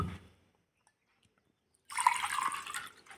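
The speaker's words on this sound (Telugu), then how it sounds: "అందులో తగినన్ని నీళ్లు పోసుకొని" After a brief quiet, water is poured into milk in a pot for tea, a short splashing gush lasting about a second, close and clear.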